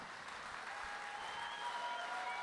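An audience applauds a comedy monologue performer on stage, a steady, fairly distant patter of many hands at low level throughout.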